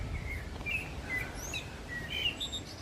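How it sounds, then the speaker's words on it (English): A bird sings in the gardens of Walmer Castle, giving several short high chirps and whistles spread through a few seconds over steady outdoor background noise. "Hello, lovely happy bird."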